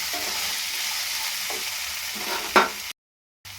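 Cold cooked rice being stirred in a hot pan, a steady close sizzle with repeated scraping strokes of a spoon and one sharper clink before the sound cuts out briefly near the end.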